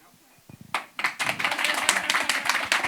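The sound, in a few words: audience clapping on cue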